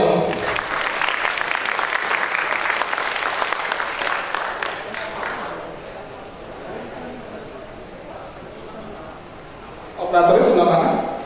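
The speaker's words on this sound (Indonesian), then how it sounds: "Tepuk tangan dong buat beliau." Audience applause for Linux history pioneers at an Indonesian Linux talk, a dense burst of clapping over the first five seconds that fades to room noise, with a louder voice speaking near the end.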